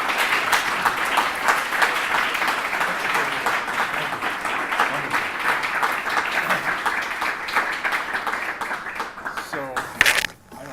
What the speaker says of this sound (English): So please join me in a very warm welcome for Todd and Jason and Dwight. Back to RIT with a hearty round of applause.